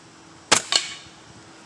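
A Gamo Swarm Maxxim .22 air rifle fires a Crosman hollow point pellet: a sharp, close crack followed moments later by a second snap of the pellet striking the target, then another brief hit-like click at the end.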